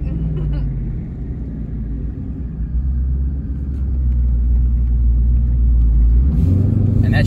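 Twin-turbo 2019 Ford Mustang GT being short-shifted under acceleration, a deep, loud engine rumble rising in intensity from inside the car, with talking heard over it.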